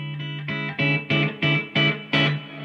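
Electric guitar through a Yamaha THR10 amp on its clean channel, modelled on a Fender Twin and starting to break up, strummed in seven loud chords that ring out and grow gritty as the attack gets harder.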